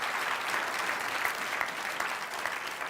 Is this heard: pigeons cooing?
no